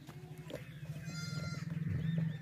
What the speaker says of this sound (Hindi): बहुत ही ताकतवर बकरी है माशाल्लाह